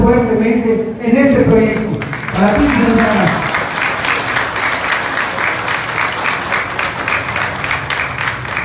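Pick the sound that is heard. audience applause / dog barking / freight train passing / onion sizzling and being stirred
audience applause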